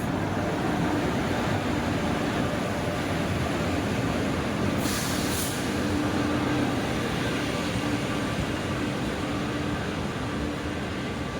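Continuous loud rumbling of the Gaya Garib Rath Express, a moving train with a new AC economy LHB rake, a steady roar with no breaks throughout.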